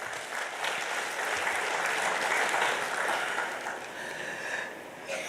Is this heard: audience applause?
yes